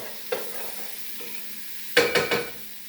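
Garlic, onions and peppers are stirred in a hot pot, a quiet background sizzle interrupted by a single scrape and then a burst of three quick utensil scrapes and clatters near the end, close with no talking.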